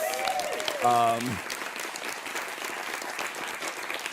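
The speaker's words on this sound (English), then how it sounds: "let's clap for immigrant parents" An audience at a live comedy show claps for immigrant parents, a broad wash of applause with a short tonal sound near the start, holding steady and unbroken.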